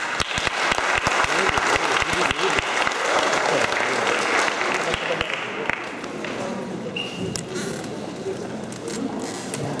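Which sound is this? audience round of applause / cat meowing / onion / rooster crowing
audience round of applause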